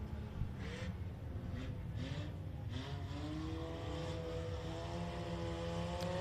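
USRA tuner modified race cars run evening hot laps at RPM Speedway, their engines droning from a distance with rising and falling pitch as they circle the dirt oval.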